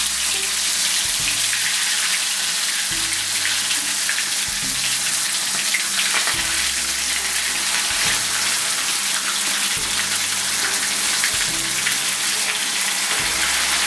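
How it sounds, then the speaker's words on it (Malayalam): Chicken for a spicy Kerala-style fry sizzles in oil in a pan over a medium flame, a steady close hiss with occasional soft knocks and shifts as the pieces settle, and no voice over it. "എന്നിട്ട് അതിനകത്തേക്ക് ചിക്കൻ ഇടണം."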